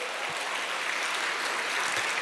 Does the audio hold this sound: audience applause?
yes